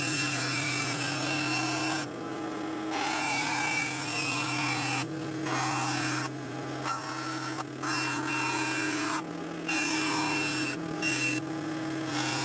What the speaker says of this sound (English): And bandsaw time.